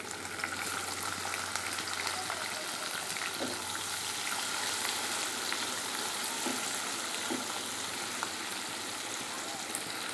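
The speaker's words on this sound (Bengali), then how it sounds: "এখন এর মাঝে আমি পেঁয়াজ কুচিটা অ্যাড করে নিলাম।" Chopped onion fries in a pan with a steady, fairly soft sizzle and light crackle that continues throughout, with occasional faint knocks and no speech.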